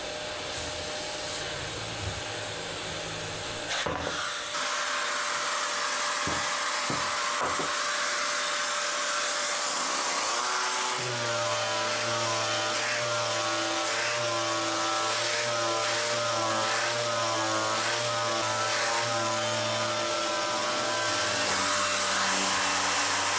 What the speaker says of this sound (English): It looks like the sander moves easily, but in reality, it's really stuck to the surface.